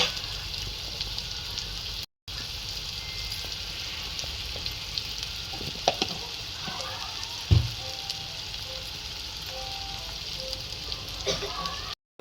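Chopped onion with a little salt frying in a pan for a home-style chicken curry, giving a continuous even sizzle with occasional louder clatters and a brief dropout.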